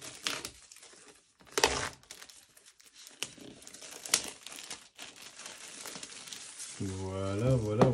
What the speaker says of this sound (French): Donc, nous allons procéder au déballage.